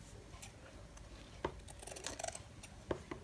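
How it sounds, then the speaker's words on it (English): Scissors snip through old book pages during a paper craft session, with a few quiet, separate cuts landing close by over faint room noise. "So maybe we'll just snip off a bit of that and use a bit of that with it."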